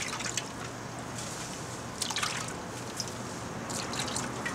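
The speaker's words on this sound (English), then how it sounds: "So just nicely let it drip into your bag." Water drips and trickles from a gold pan sample of heavy mineral concentrate into a bag, soft irregular droplets over a steady low hiss.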